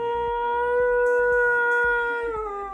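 A Siberian husky howls in one long, steady, tonal note that holds and then slides slightly downward, close and alone.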